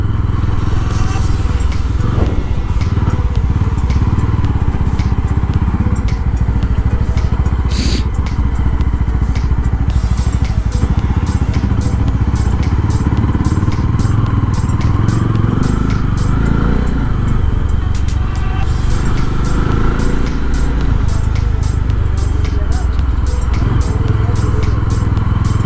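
A Mahindra Mojo motorcycle rumbles steadily and loudly while being ridden, its engine drone constant throughout, with a voice occasionally heard faintly over it.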